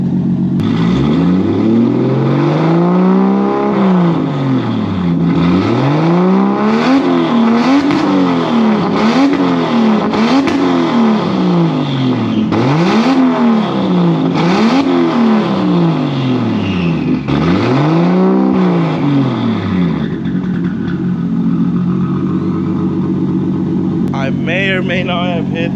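Loud turbocharged car exhaust through a 4-inch straight pipe ending in a 5-inch tip, with anti-lag, revving repeatedly in rising and falling sweeps for about twenty seconds, close and dominant before settling to a lower idle.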